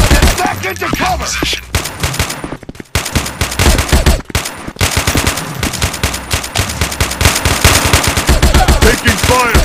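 Gunfire in the Shotgun Roster Farmers mobile game, loud rapid bursts of automatic shots with short pauses, punctuated by heavy bangs and sustained rattling fire nearly throughout.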